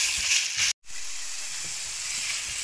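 Chicken sizzles steadily in a pan with a little oil and ginger-garlic paste, a continuous bright hiss broken by one brief silent gap.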